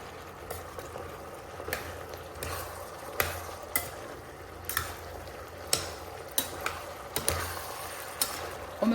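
Ground beef for a meat pie filling frying and drying out in a pan, with a steady soft sizzle and occasional scraping stirs of a spoon against the pan.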